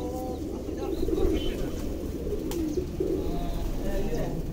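Breeder pigeon pairs cooing in a loft, soft low coos under a steady noisy background with a voice talking nearby.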